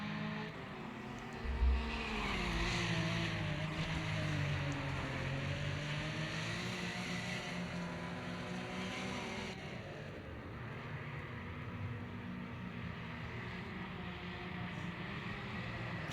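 A Porsche race car engine in a racing video game at Donington drones steadily with a rising and falling pitch, a fairly faint continuous roar with no talk over it.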